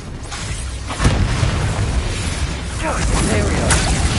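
A loud magical explosion spell blasting in Hogwarts Legacy, a sharp boom about a second in, followed by a rumbling, crackling spell effect with dense noise throughout, speech-like voices mixed in.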